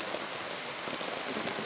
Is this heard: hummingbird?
no